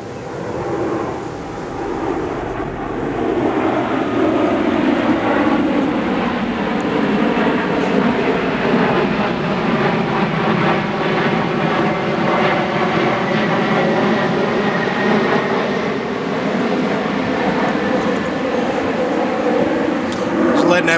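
A propeller plane passes overhead, a steady broad engine drone holding for the full stretch and slowly shifting in pitch, with faint talking and puppy sounds beneath it in a home with 13-day-old Lab puppies.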